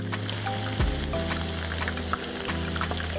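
Meat sizzles steadily and loudly in a frying pan just after being turned over, with a continuous crackle and a few clinks of a utensil against the pan.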